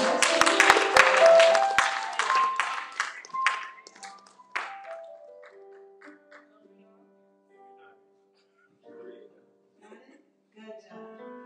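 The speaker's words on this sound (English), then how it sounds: "let's give them another round of applause" Applause from an audience at an award ceremony fills the opening seconds with dense clapping, then thins into scattered claps and fades into near silence broken by faint voices.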